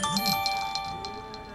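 A phone plays a melodic electronic ringtone, sustained bright tones with a few chiming accents that continue steadily and close by, with no speech over them.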